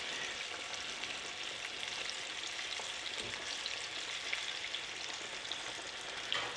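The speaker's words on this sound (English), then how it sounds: "So don't walk off when you're frying these." Sliced green tomatoes fry in hot oil, giving a steady, close, dense sizzle that holds evenly for the whole stretch, with a few small pops and no voices.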